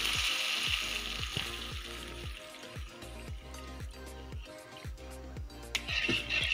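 Water poured into a hot tempering pan raises a soft, steady sizzle and bubbling with faint rhythmic clicks throughout.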